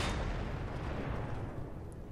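In a video game, a tank cannon shell hits the player and sets off a loud, dense booming roar that dies away slowly over a couple of seconds.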